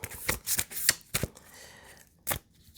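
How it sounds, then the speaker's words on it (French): A deck of cards being shuffled by hand, a few quick close riffling bursts and soft card slaps separated by short pauses, quiet and without talk. "on va ouvrir la boîte, sortir les cartes. Voilà, et je vais passer au mélange"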